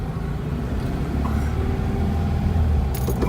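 A 1966 VW Beetle buggy engine drones steadily while driving, a low rumbling hum with a brief brighter rattle near the end.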